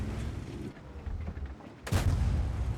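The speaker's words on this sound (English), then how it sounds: "Enemy armor is hit." Heavy tank cannon fire in a tank battle game, a T1 Heavy trading shots, with a rumbling engine bed and a loud, sharp cannon blast near the end hitting enemy armor.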